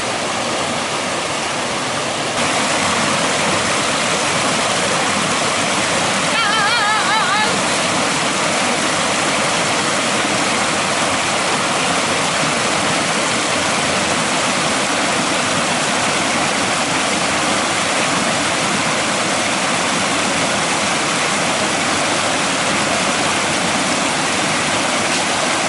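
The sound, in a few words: river flowing over rocks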